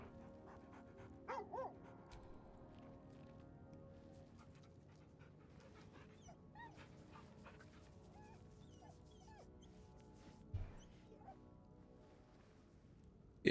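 A dog in Baldur's Gate 3 pants softly and whimpers, with a few short louder barks and yelps near the start and toward the end against quiet game ambience.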